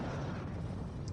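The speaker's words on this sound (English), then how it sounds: "A few nice explosions later" Dense, continuous rumble of explosions in the space strategy game Homeworld, a broad roaring wash of blasts filling the whole moment without pause.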